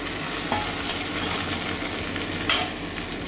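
Pointed gourd peels fry in a hot pan with a steady, close sizzle and a couple of brief stirring scrapes, no talking.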